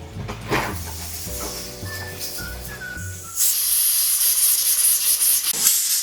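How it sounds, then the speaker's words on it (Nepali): A pressure cooker with mutton and bottle gourd releases steam: after a few seconds of music, a loud, sustained hissing whistle bursts in and continues to the end. "अब हामीले चाहिँ प्रेसर कुकरमा बिर्को लगाएर 5 सिटी चाहिँ म लगाउँछु"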